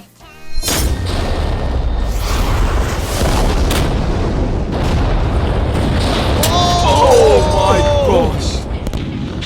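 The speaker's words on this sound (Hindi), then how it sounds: "ये एक बहुत ही बड़ा धमाका होने वाला है" A long, loud roaring blast that rumbles on for several seconds, with a thick low-end boom and crackling, and high whistling tones near the end.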